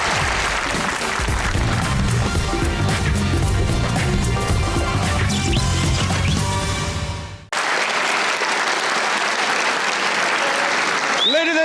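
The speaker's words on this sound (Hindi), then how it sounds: "तालियां।" A studio audience at a Pakistani comedy talk show claps loudly and steadily, then the applause cuts off abruptly and a fresh burst of clapping with music follows.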